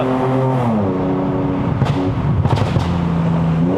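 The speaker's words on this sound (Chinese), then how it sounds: "我明白它的那个降档补油是这样了" A Lexus RC350 V6 sends a quick throttle blip on a downshift during a mountain run up to Genting, Malaysia. Loud, close engine drone swells in sharp revs, with two short bursts near the middle and no talking.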